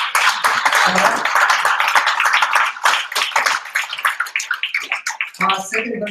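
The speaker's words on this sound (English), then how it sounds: "big round of applause" Hackathon audience applauding the winning idea at a night event, a dense burst of clapping and cheering that runs loudly through the clip and thins toward the end, with voices mixed in.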